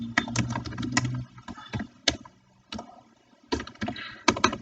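Code is typed on a computer keyboard in close, clattering bursts of key clicks separated by short pauses.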